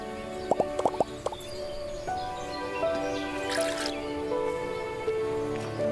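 Watering plants in the farming game Everdream Valley: a quick run of soft droplet plops and splashes near the start, then a gentle game melody with a brief sparkle chime.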